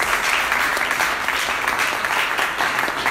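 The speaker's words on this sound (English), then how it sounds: "Round of applause for Michelle now, please." A crowd breaks into loud, sustained applause, many hands clapping at once in a dense, even wash of sound.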